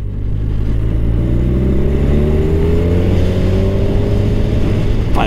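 A 2024 Kawasaki Ninja 1000SX motorcycle accelerates hard and close, its engine note climbing steadily through the gears in a loud, continuous rising drone.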